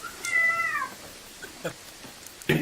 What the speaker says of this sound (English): You found a cat.